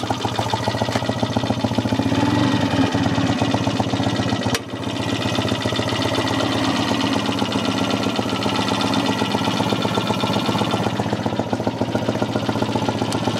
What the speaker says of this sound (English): we just put it on main stand and run it through the gears